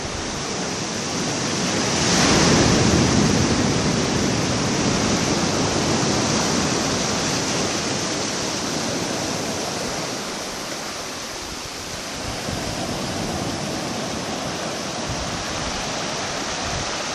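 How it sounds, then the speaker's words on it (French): The Rivière des Galets on Réunion rushes continuously close by near its mouth, a dense roaring wash of water that swells briefly then eases, with no voices. "Voilà la rivière des Galets."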